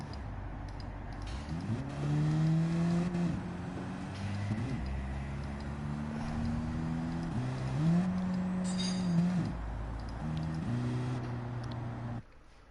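A race car engine in Gran Turismo 7 revs hard and upshifts several times in a row, each gear change cutting the pitch before it climbs again. It is loud and steady, with no talking over it.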